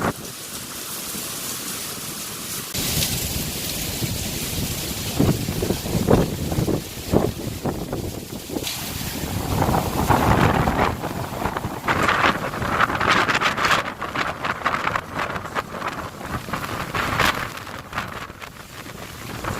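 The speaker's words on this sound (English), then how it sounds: "The wind is extremely strong and you might hurt from falling or getting hit by a flying object." Strong wind and heavy rain from a 2018 typhoon in Japan batter the microphone, a loud roaring rush with gusty surges, buffeting and a dense hiss of rain that swells and fades without letup.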